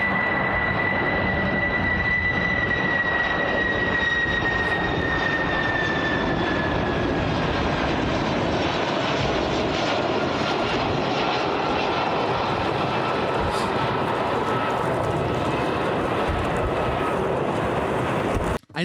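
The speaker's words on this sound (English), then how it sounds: "And then you can see his plane is landing." Air Force One lands in Calgary, its jet engines roaring loudly and continuously with a falling whine as the plane descends and rolls out, no talk over it.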